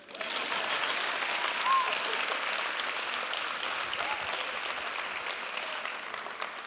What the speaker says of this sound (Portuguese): Agora pode aplaudir, mano